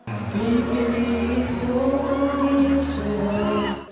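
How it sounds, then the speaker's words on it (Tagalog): A Kapuso Mall Show crowd in Pangasinan screams and cheers excitedly during live performances, a dense, loud wall of voices sustained for several seconds before cutting off. "Nagyawan sa kilig ang crowd sa performances nila Anton Vinzon"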